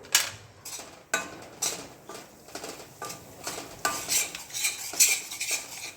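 A spoon scrapes and clinks against a pan as roasted flour with fennel and dry ginger powder is stirred for Gujarati sukhadi, in repeated close rhythmic strokes with no talking.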